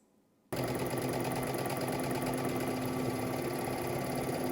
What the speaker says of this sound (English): let's head to the sewing machine. We're gonna stitch this together using 5/8 of an inch seam allowance.